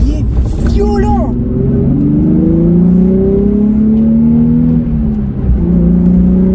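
A Nissan 350Z engine pulls hard under acceleration, its loud rumbling tone rising steadily in pitch as the revs climb, heard from inside the car.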